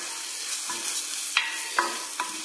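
Risotto being stirred in a pan, a soft continuous simmering sizzle with a few sharper scrapes and knocks of the spoon, close and fairly quiet, with no one speaking.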